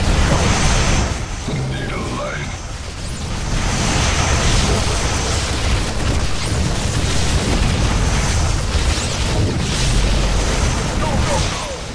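Explosions and heavy booms hit a void shard during a StarCraft II battle, loud, dense bursts packed together across the scene with game sound effects around them.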